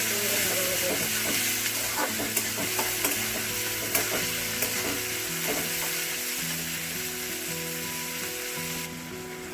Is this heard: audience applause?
no